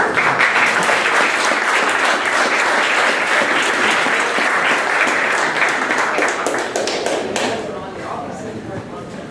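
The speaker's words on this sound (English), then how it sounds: "please give him a warm round of applause" An audience at a 1 Million Cups presentation event bursts into loud, sustained applause for a presenter, dense clapping that carries steadily for several seconds before thinning out toward the end.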